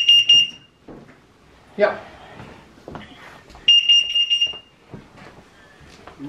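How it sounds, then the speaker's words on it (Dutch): A carbon monoxide detector alarm sounds in two shrill, rapid bursts of beeping, one at the start and one midway, with a voice talking in between. "want onze CO2-melder gaat af"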